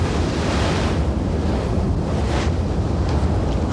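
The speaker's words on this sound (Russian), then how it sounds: "грозно длинные тихоокеанские волны накатывают на одинокую скалу" Long Pacific ocean waves roll in and break against a lone rock near the Marquesas Islands, a continuous loud wash of surf with gusty wind noise and no pauses.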